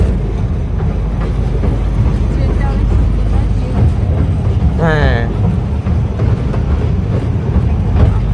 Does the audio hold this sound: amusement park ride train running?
yes